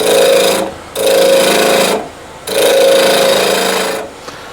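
A twig pot on a wood lathe spinning at 1600 RPM, with a loud, steady rasping whir cut into three long passes separated by brief quieter gaps, close by and without speech.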